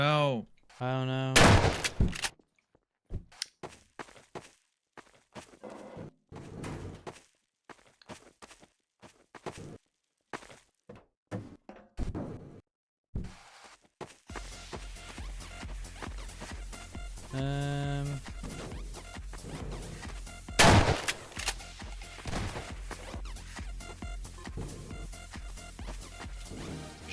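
Video game gunfire crackles in scattered bursts and single shots amid footstep-like shuffling, with people talking over much of it during a gaming stream.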